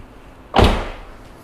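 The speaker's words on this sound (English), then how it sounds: "Close the door." A single solid thud as a Mitsubishi Evo X car door swings shut, close by and brief, with quiet surroundings before and after.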